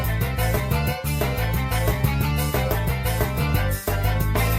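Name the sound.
original racetrack music from a racing video game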